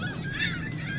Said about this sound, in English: Why is there a holographic seagull circling my asshole?